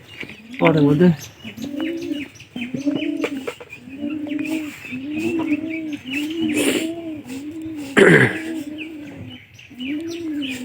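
Pigeons coo in a repeated, rhythmic series of low warbling calls close by, with a throat-clearing and brief voice sounds in between.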